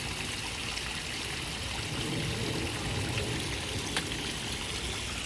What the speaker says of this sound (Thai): น้ำตกตาดเด้อเพื่อนๆเด้อน้ำตกตาดเนี่ย